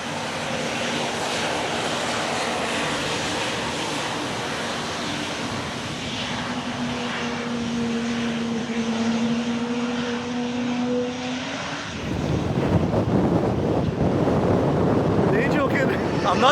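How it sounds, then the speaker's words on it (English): Airplane jet engines heard by a plane spotter, first as a steady whine and drone, then surging into a loud, broad roar at takeoff with wind buffeting the microphone. "I'm not even sure how much of my speaking you can hear with all the engine noise."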